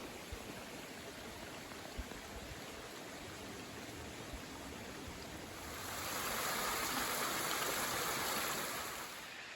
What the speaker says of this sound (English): This is the only running water in the Sandia Mountains.